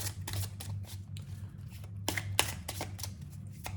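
Tarot playing cards are shuffled and drawn by hand in quick, close riffling bursts and flicks, with a low hum underneath and no talking.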